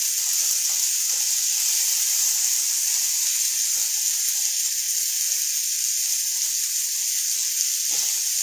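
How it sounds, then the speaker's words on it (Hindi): Onions fry in a hot pan with a loud, steady sizzle and hiss that stays constant throughout, with no voices over it. "तुरंत हम लोग इसके अंदर अनियन ऐड कर देंगे एंड इसे अच्छे से मिक्स कर लेंगे"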